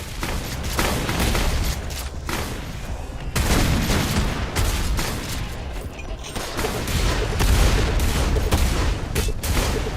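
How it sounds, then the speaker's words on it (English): Rapid explosive weapon fire from a Doom mod video game, including the rocket launcher, with dense repeated booms and blasts in a continuous barrage. "I find the pre-fire noise on the rocket launcher weird"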